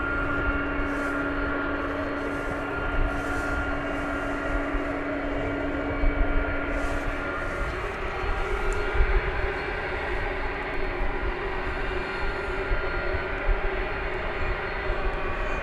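A tri-jet airliner at DFW Airport at night gives off a steady, broad engine roar with a sustained whine, holding constant and fairly loud from a moderate distance throughout.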